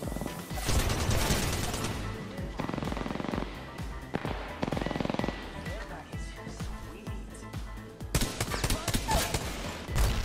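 Gunfire in Apex Legends comes in loud, dense bursts of rapid shots, some sections heavier than others, with a voice talking over much of it.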